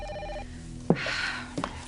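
A telephone bell rings in a quiet room, sounding twice with a short gap between the bursts, close by and with no talk over it.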